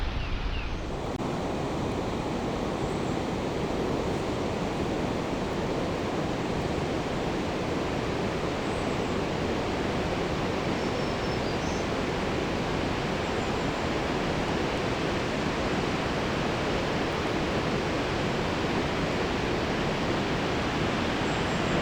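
Eagle Creek Falls on the Cumberland River roars in a steady, unbroken rush of falling water, loud and close, with no voices over it.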